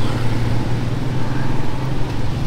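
Heavy street traffic in the Philippines on a hot day, with cars passing in a steady, continuous low engine rumble and road noise throughout, loud and close with no voices.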